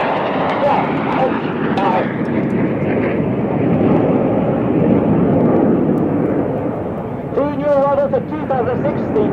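An aircraft flying overhead at about 6,000 feet, a loud, steady engine roar that stays constant throughout, with a brief voice near the end.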